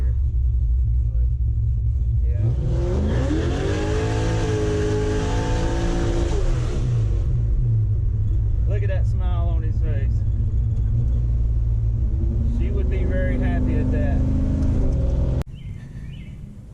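A Ford F100 truck drives and accelerates, its engine rumbling steadily close by and rising in pitch as it revs through a gear, with people talking inside over the drone.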